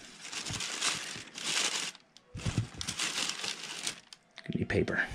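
Wrapping paper crinkles and rustles in close, loud bursts while a gift is being wrapped, with a brief pause between handlings and voices talking over parts of it.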